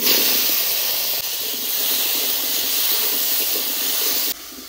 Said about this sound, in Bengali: মাছ ভাজার তেলে এই শাকের আলুগুলো একটু ভেজে নেবো।